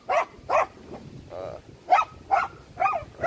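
Several dogs at home give short, loud barks in bursts, about six in a few seconds, with a softer whine between them, heard outdoors during a typhoon cleanup.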